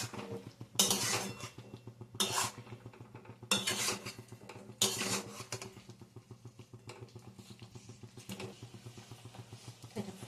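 Fried cabbage balls for cabbage manchurian are tipped into a pan and stirred, producing a run of loud clattering scrapes and clinks of a utensil against metal in bursts, over a low steady hum.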